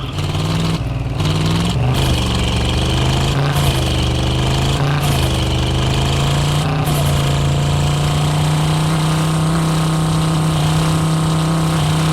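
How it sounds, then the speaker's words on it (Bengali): A powerful car engine in the driving game Drive Beyond Horizons drones loud and steady, its low hum briefly shifting pitch early on before settling into an even, continuous tone, with no voices. "অনেক পাওয়ারফুল ইঞ্জিন"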